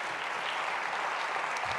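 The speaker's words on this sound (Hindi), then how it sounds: "जोरदार तालियां बजाएं।" Loud audience applause at a church sermon, a continuous, dense wash of many hands clapping at even strength from start to finish.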